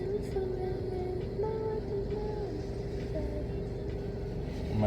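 Steady city road traffic in rainy Dubai, a low continuous drone of engines and tyres at moderate distance with no clear voices over it.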